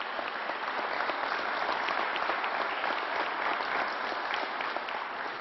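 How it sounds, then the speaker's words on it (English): Audience applause for a County Executive at a COVID update briefing, a steady, dense wash of clapping from a crowd that holds at an even level throughout, with no voices over it. "Let's give the County Executive a round of applause."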